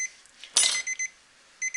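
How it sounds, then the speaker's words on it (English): A timer alarm in a knife-etching workshop beeps in short, shrill electronic bursts, a loud opening tone followed by quick repeated pairs of beeps. "And of course my timer went off."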